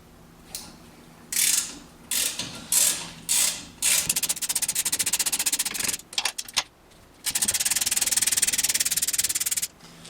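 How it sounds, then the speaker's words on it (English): Ratchet with a standard socket loosening the brake caliper pins on a Volkswagen Passat B7, loud rapid pawl clicking in several bursts of varying length with short pauses between, close up. "remove those two pins. They shouldn't be on too hard, so just a standard socket should be sufficient"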